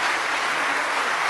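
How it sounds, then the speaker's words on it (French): An audience at a political gathering claps, producing a brief, even wash of applause that sounds fairly distant, with no voices. "Merci, vous pouvez les applaudir."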